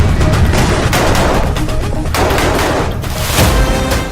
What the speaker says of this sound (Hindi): पहले देखिए रफा फ्रंट पर बारूदी तांडव का लेवल कहां तक पहुंच चुका है।